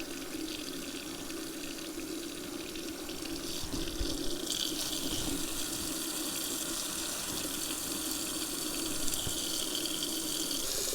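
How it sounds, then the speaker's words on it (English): Water at 85 degrees pours steadily from a tap into a bowl on a kitchen scale for bread dough, a continuous rushing splash that stays close and even for the whole stretch, with no talking. "I need to put 400 grams of water in at 85"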